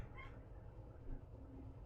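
A house cat meows briefly and faintly near the start, over a steady low background hum, with no talking.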